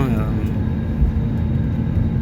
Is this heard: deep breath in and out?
no